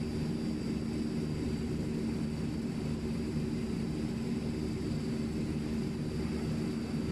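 Steady, loud drone from the propeller engines of a C-160 Transall transport aircraft in a flight game, a constant hum with no voices.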